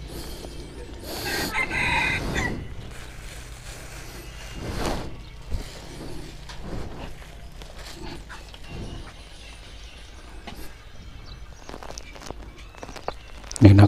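A rooster crows at a rural spot during a motorcycle trip, a loud burst early on followed by clucking fowl and footsteps in the background, with scattered outdoor noise.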